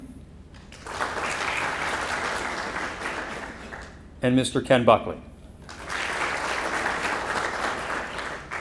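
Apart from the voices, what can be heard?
audience applause for named school officials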